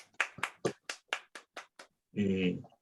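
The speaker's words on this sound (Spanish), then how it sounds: "lo que corresponde ahora es el tradicional aplauso, aunque sea vía pantalla, para agradecer a nuestros participantes" Roughly nine separate, evenly spaced hand claps from a single online seminar participant clapping over a video call, fairly close and clear, followed by a short burst of voice.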